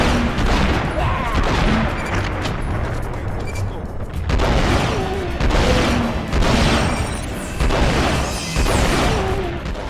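Missiles fire and explode in rapid succession in the PlayStation 2 shooter 10,000 Bullets, a loud, dense barrage of booms and gunfire-like bursts that swells in waves throughout.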